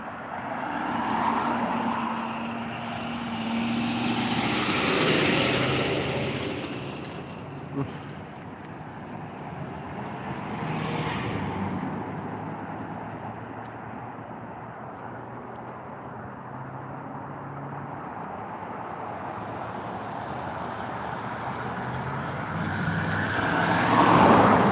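A tow truck's engine drones and rumbles steadily nearby, mixed with roadway noise and wind buffeting that swells at the start and near the end.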